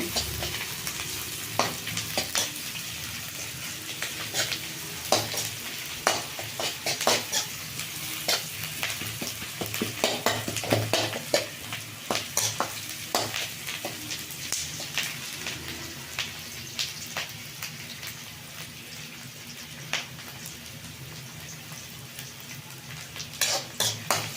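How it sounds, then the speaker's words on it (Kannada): Onions fry in a pan for a pea gravy, with a constant soft sizzle and repeated scraping clinks of a spoon stirring against the metal, close and fairly quiet, with no talking. "ಈರುಳ್ಳಿ ಇನ್ನೊಂದು ಚೂರು ಫ್ರೈ ಆಗಲಿ"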